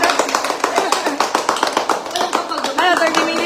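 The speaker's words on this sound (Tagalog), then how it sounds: "Palakpakan naman dyan!" Audience members at a Filipino community gathering clap in quick, sharp, closely spaced bursts near the microphone, fairly loud, while voices talk over the clapping toward the end.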